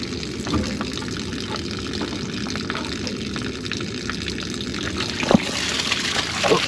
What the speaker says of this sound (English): I'll need to drain all that water out of there just so I can put this treatment in.